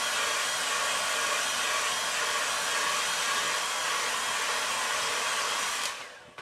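A hair dryer blows steadily at close range over wet watercolour paint on a landscape sky, a loud even whoosh that cuts off abruptly near the end.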